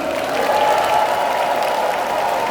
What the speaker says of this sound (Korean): 끝까지 함께하시라고 박수 보내주시기 바랍니다